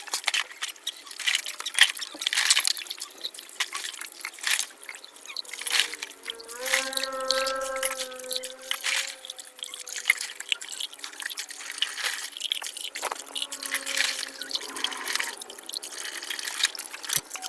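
Dishes being washed under a running tap, with steady trickling and splashing water, dripping and brief tonal ringing from the plates, continuous and fairly close throughout.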